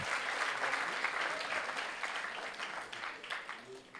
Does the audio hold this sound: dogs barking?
no